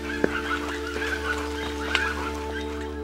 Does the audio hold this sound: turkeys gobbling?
yes